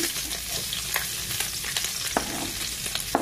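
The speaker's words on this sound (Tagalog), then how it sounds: "So, tama na ito na panggisa ko sa mga ricados. Bawang." Garlic sizzles steadily in cooking oil, a dense crackling hiss with scattered sharper pops and light clinks of a utensil stirring the pan, close and continuous with no talking.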